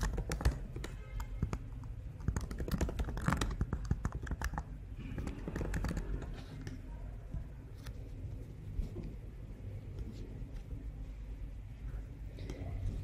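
Someone types a name on a computer keyboard at a desk, with a run of quick, uneven key taps in bursts over a low background hum, then quieter and sparser clicking.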